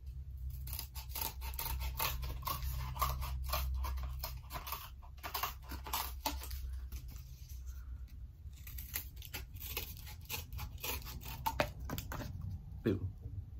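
Scissors snip steadily through cardboard along the edges of a handmade cardboard M4 rifle magazine part, a rapid close sequence of crisp cuts and scraping over a low background hum.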